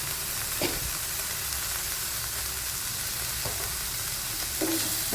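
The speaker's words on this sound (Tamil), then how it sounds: "போட்டு கொஞ்சம் வதங்கட்டும் கொஞ்சமாக உப்பு போட்டுக்கோங்க" Prawn thokku masala sautés in a pan with onion and a little salt, giving a loud, constant frying sizzle broken by a few light clinks and scrapes of stirring. No one speaks.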